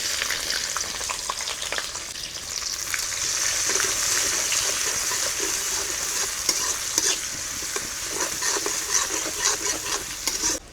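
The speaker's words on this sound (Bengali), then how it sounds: "এবারে দিয়ে দেবো পেঁয়াজ কুচি" Chopped onions hiss and sizzle in hot mustard oil with bay leaves and five-spice seeds, a steady close frying crackle under occasional stirring scrapes, no talk.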